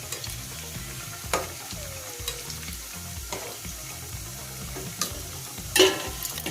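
Roasted rava (sooji) sweets deep-frying in hot oil, a continuous bubbling sizzle with a few sharp scrapes and clinks of a utensil stirring the pan.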